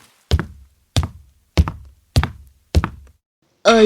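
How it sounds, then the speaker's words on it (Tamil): Knocking on a door during rain, five heavy evenly spaced thuds close by, each ringing briefly before the next, followed by a louder noisy burst at the end. "இந்த மழையில வந்துட்டு ஏன் இப்படி கதவு தட்டுறீங்க டம்முன்னு?"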